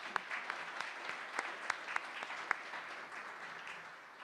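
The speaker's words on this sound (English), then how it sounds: "Please join me in a warm round of applause for all of them." An audience gives a round of applause at a civic forum luncheon, soft and distant-sounding, with scattered sharper individual claps standing out before the clapping thins and fades.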